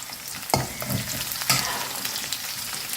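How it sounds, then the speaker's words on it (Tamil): Cooked toor dal for a tamarind-free raw mango sambar gets churned in a pot with a wooden mathu, making wet scraping and slapping strokes with a couple of sharper knocks, close and fairly loud. "மத்து போட்டு கடைஞ்சிடணும்"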